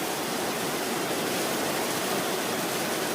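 Heavy rain pours steadily outside a house in Idukki during a days-long downpour, a dense, constant rushing hiss close by with no pauses or voices.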